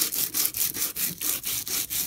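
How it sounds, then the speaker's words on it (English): Rhythmic back-and-forth scraping of sandpaper on a wooden trinket box, about nine even strokes in quick succession, close and steady with no voices. "I need to change my sandpaper because this is getting full of the"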